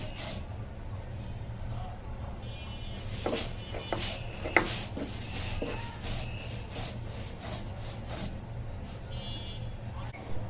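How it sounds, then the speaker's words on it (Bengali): Dried shrimp is ground into a paste on a grinding stone, producing steady rhythmic rubbing and scraping strokes at moderate volume, with occasional sharper knocks. "এটা এখন বেটে নিব"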